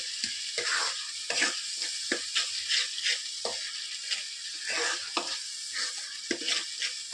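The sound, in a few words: stirring and frying tomato rasam ingredients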